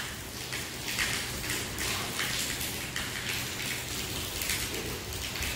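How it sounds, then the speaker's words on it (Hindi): Steady light rain drums on a sheet roof over a house, a continuous close hiss with soft uneven pattering and no talk. "देखिए ऊपर सीट पर बारिश पड़ रही है, आवाज़ कर रही है"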